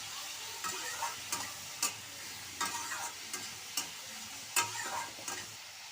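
A spoon stirs a mixture of chili powder and turmeric, giving quiet, close scraping strokes in an uneven rhythm with a soft sizzle beneath, and no talking.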